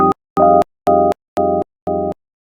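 Audio slices are played back one after another, in order, by a granular synth: five short, even, bright tonal bursts separated by clean silent gaps, loud and close, with no voices.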